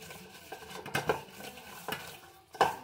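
Fish pieces being mixed by hand with salt and masala in a bowl: a few soft, irregular scrapes and light clinks against the dish, close by and fairly quiet, with no talking.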